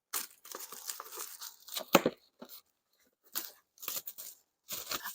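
Someone tears open a cardboard subscription beauty box by hand without scissors: a run of close ripping and crinkling bursts in irregular spurts, separated by short quiet pauses.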